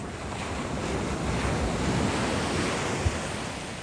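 Ocean waves wash onto a beach in Bali in a steady, broad rush of surf, with some wind buffeting the microphone and no one talking.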